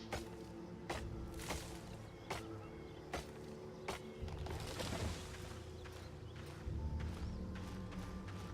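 A horse's hooves clip-clop in a video game, a series of sharp, evenly spaced knocks at moderate volume with some mechanical clatter toward the end, and no talk over it.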